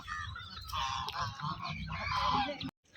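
Domestic ducks at a Telugu family's farmyard flock, with loud honking, quacking calls that overlap continuously for a few seconds close by, alongside other fowl, then stop abruptly.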